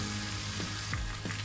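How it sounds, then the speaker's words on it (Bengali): Chicken pieces for a KFC-style fry sizzle steadily in hot oil, a dense continuous crackle with a few brief low thumps, heard close and without talk. "আমি আরেক সাইড ভেজে উঠিয়ে নিচ্ছি"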